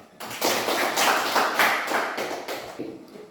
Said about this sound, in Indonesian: Tepuk tangan satu kali lagi.